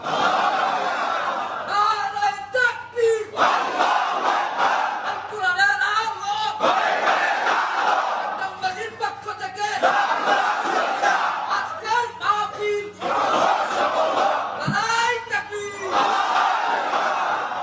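A crowd of listeners chants the takbir in unison at an Islamic lecture, loud, full-throated call-and-response waves repeating several times across the span with brief gaps between bursts.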